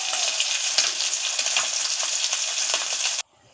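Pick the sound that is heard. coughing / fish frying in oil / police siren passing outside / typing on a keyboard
fish frying in oil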